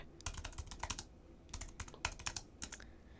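Quick bursts of keystrokes on a computer keyboard, close and crisp, in short clustered runs separated by brief pauses, with no talking.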